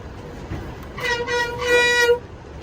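A train passes in Mumbai, its horn sounding as a steady, layered tone for about a second in the middle against a low rumble of background noise.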